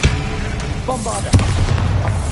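A Bombarda blasting-spell explosion in Hogwarts Legacy on PS5 bursts with a sharp boom near the middle, amid short crackling magical effects and a low rumbling undertone.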